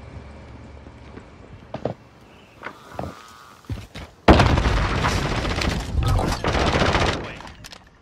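Gunfire in the Warzone video game: a few sparse sharp reports and footsteps early on, then a dense, loud burst of rapid automatic fire that continues for several seconds.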